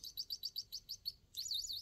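A magnetic paper clip holder with a small toy bird inside chirps as it is moved, giving a quick run of about eight bright, evenly spaced tweets followed by a longer warbling trill, close and clear with no talk.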